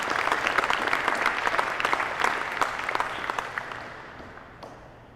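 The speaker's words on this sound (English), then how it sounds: "Just another round of applause for you guys" Audience applause for a graduating U.S. Army Flight Surgeon class at a graduation ceremony, steady dense clapping from a crowd that gradually thins and fades toward the end.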